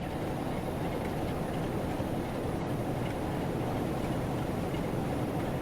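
Steady, dense rumble and drone of a Class 08 shunter diesel locomotive powering up in Train Sim World, loud and constant throughout with no talking.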